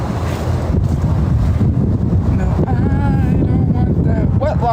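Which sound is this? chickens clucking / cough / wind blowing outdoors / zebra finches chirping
wind blowing outdoors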